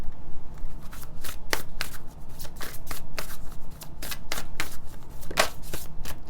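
A deck of tarot cards is shuffled up close: loud, rapid riffling bursts repeat in an uneven rhythm for several seconds, with no voices.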